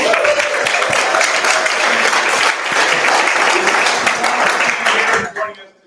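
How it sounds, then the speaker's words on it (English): An audience of students and community leaders at a Detroit sports community event applauds loudly and steadily for about five seconds before the clapping trails off. "Give yourselves a round of applause."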